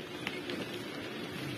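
Torrential rain from Storm Barra in Spain, a steady dense hiss of heavy rainfall pouring without a break, moderately loud and even throughout with no voices.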